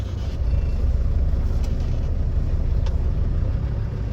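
A 2006 Land Rover Defender 110 TD5 silver edition station wagon's diesel engine pulling away, a steady loud low rumble throughout with no talk.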